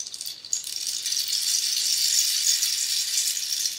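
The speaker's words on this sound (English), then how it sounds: "Rainmaker. Why did I use it? Because it's like also made from bamboo." A steady, hissing rattle of tiny pellets cascading through a bamboo rainmaker, like falling rain, continuous and close for several seconds.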